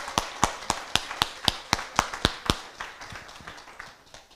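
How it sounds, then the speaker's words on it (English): A townhall audience claps in a steady, fairly slow rhythm, about a dozen loud evenly spaced claps that then soften and thin out into scattered quieter claps. "You need to clap loudly"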